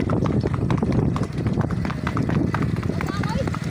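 A ridden Kathiyawari mare's hooves beat out a quick, steady clip-clop close by, while people shout and talk loudly over the hoofbeats throughout.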